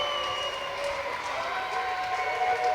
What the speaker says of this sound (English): This crowd's getting into this game here.